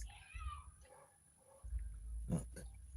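A cat meows as children chase it around, a few short mid-distance cries amid background bustle and scuffling, with no clear talk.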